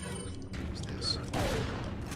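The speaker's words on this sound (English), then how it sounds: "2 magnum rounds, a pistol round, and a fucking shotgun shell to the face" Gunfire in Resident Evil 4: two magnum rounds, a pistol round and a shotgun blast hit an enemy's face, dense overlapping reports and thuds over game noise, with a voice talking over them.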